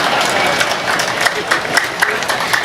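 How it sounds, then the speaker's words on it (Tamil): An audience claps for a Tamil motivational speech, a thin, steady patter of hands filling the hall, moderately loud and continuous. "என்னங்க இவ்வளவு கம்மியா கைதட்டுறீங்க?"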